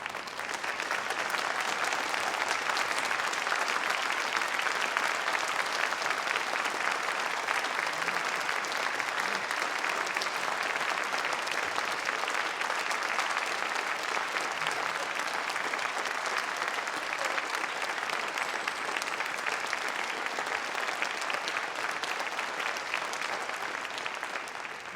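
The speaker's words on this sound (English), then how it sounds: "show your thanks to those who've helped you to this point in your life by now giving them your applause" Sustained applause from a large audience at an Oxford graduation ceremony, dense steady clapping filling the hall for about twenty-five seconds at an even, loud level with no talk over it.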